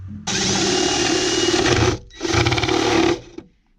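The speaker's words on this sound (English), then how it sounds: "I'm gonna drill it right around there." A power drill with a paddle bit whirs loudly for almost two seconds, boring a hole in a camper van, stops briefly, then bores again for another second before winding down.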